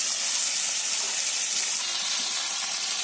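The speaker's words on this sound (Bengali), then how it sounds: "বন্ধুরা মাছ ভাজার তেলে অর্ধেক পটল দিয়ে দিয়েছি" Halved pointed gourd (potol) sizzles in hot oil left from frying fish in a village kitchen, a loud, steady, bright hiss that holds without a break.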